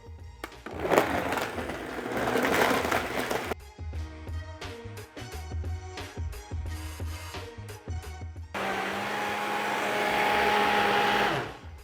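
A high-speed blender whirs loudly, its motor pitch shifting as it chops, with rattling bursts in the middle, then settles into a steady high whine.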